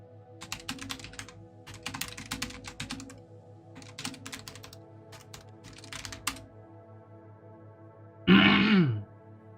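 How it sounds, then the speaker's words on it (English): Keyboard typing clicks in scattered bursts, then one loud, close throat clearing near the end. "Had to clear my throat."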